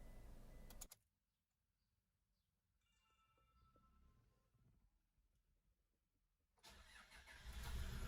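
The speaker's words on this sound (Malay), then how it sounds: "Okay, sekarang masanya untuk kita test enjin kereta kita." A Toyota Hilux engine starts after a battery change: a loud burst at the start, a long quiet stretch with faint clicks and whirs, then a rising, steady engine roar near the end.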